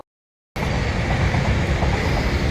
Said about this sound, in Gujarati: આ ટ્રેન અત્યારે આવી ગઈ છે ને આપણે ટ્રાફિકમાં ઊભા છે